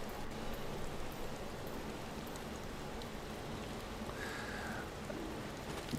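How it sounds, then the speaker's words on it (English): A steady wash of rain hisses evenly throughout, soft and constant, with no voices. "It sounds like it's raining."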